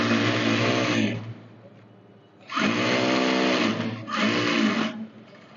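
Sewing machine stitching salwar seams, three loud close bursts of fast, steady whirring and needle chatter separated by brief pauses.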